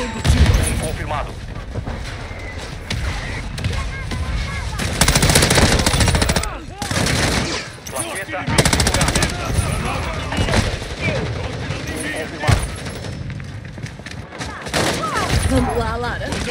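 Rapid automatic gunfire and explosions from Call of Duty Modern Warfare 2 on the Shipment map, loud and dense in repeated bursts with booms, mixed with game voice callouts.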